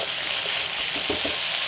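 Chicken and chili sizzling steadily in a pan for chicken chili, a constant bright frying hiss with a few soft stirring scrapes near the end, close and alone without talk.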